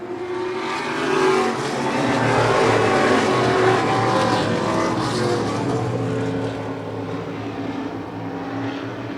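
Stock race cars roar around a track in a close battle for the lead, with a steady loud engine drone and swelling passes that blend into one continuous racing din.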